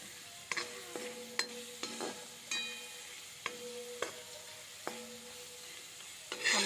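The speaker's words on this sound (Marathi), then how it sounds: "बटाटो, जिरे, हिरवी मिरची यामध्ये असा परतून घ्यायचा आहे" Potato, cumin and green chili sautéing in a pan for potato sabudana khichdi, with a steady sizzle under repeated metallic spatula scrapes and taps against the pan.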